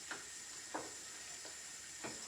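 Butter heating toward browning in a pan gives a faint, steady hiss under a constant background hum, with a few soft stirring taps spaced out.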